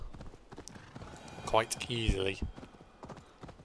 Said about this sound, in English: I'm on a horse, you're on foot, I'm gonna go get away from you.